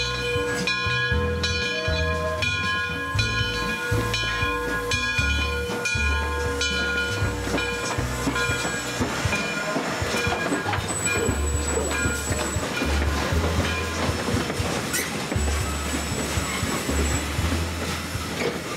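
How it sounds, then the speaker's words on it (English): Frisco 1630 steam locomotive pulls away from a railway museum, its heavy rhythmic chuffing and clanking wheels joined by a ringing bell and sharp whistle tones, loud and close throughout. "As the Frisco 1630 departs from the museum for its last run of the day"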